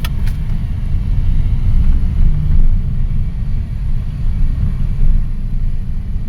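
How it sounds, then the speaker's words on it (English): A 2009 Honda Fit with low power under acceleration, heard from inside as a steady low engine and road rumble, loud and continuous without speech. "Now as I'm driving here, this car seems to have an acceleration problem."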